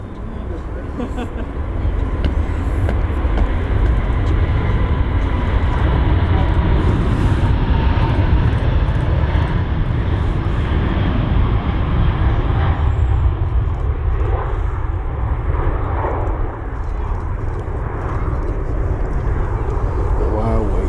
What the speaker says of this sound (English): Very good looking aircraft, similar to the Dreamliner.